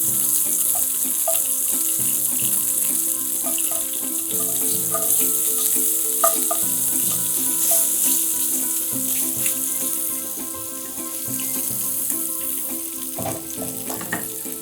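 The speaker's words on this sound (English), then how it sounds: "So sear each side of the tofu for a couple minutes until it turns brown." Tofu sears in a hot pan with a steady, bright sizzle and crackle, constant and close, with occasional pops and faint clinks over the whole stretch.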